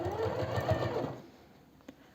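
A sewing machine stitches along the edge of leather for a zip wallet, a close, rapid whirring burst lasting about a second before stopping into quiet.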